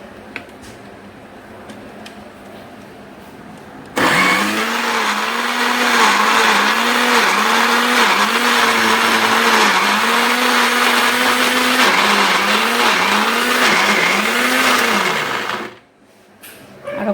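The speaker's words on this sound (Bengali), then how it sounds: "আবার কিছু মিডি ব্লেন্ডার করব এখন" A kitchen blender whirs loudly and close for about twelve seconds, its motor pitch wavering in repeated dips as the contents churn, starting abruptly after a quiet lead-in and cutting off near the end.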